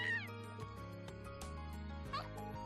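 A cat meows twice in the Trails of Cold Steel video game, a short rising call at the start and another near the end, over soft background game music.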